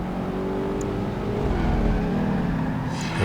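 Renault concept roadster engine in the racing game Project Gotham Racing 2, a steady, loud drone whose pitch dips and climbs again as the car revs and shifts through a run.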